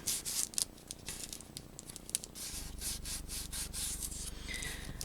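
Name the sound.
smoothing glued paper flap along edge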